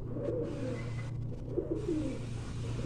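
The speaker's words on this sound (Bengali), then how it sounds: "একটা বিগ সাইজের নর পায়রা।" A big male pigeon cooing in low, soft, rolling bursts, close by over a steady background hum.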